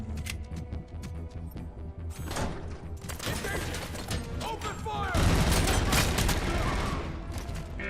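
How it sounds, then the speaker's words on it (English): Gunfire in the shooter game RoboCop: Rogue City, rapid loud bursts of shots with mechanical clanks and impacts, building to a dense, sustained fusillade toward the end. "Open fire."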